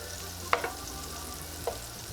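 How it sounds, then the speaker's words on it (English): Three tablespoons of butter melting in a pan, giving a steady close sizzle with two sharp clicks of a utensil against the pan, no voices. "want to get our butter melted"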